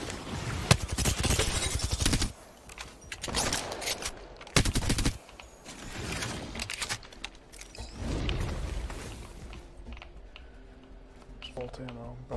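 Apex Legends gunfire crackles in dense automatic bursts, loud and close, alternating with quieter gaps, while a player talks over the action.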